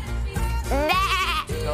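Sheep bleating on a reality-show set, a loud, close, wavering bleat in the middle of the clip, framed by low rumbling background noise.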